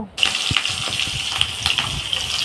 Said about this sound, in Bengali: এবার আমি মাছগুলো একে একে ছেড়ে দেবো তেলে, দিয়ে ভালো করে লাল লাল করে ভেজে নেব।